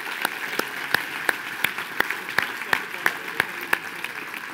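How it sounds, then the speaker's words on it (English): Sparse, spaced-out claps ring out in a meeting room, a handful of sharp individual hand claps at an even rhythm over faint background murmur. "Let's give Wasserman a huge round of applause."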